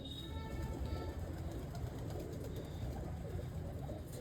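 A Sialkoti pigeon coos low and steadily up close, a continuous throaty murmur with no one talking.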